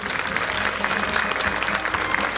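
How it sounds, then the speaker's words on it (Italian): Dense, steady applause from a large crowd at an evening religious procession for San Donato in Anzi, Potenza, sustained and loud throughout with no break. "Ancora un forte applauso"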